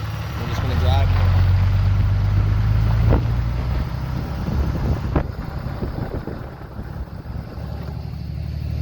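Reverse-leveled Ram 3500 pickup on 35x12 tires driving along a road, a low steady engine and road rumble with wind buffeting on the microphone, and someone speaking over it.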